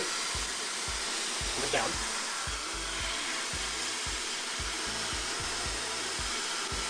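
A hair dryer blows steadily at close range while hair is being blow-dried, a loud continuous whoosh broken by regular rhythmic brushing strokes, with a brief spoken phrase midway.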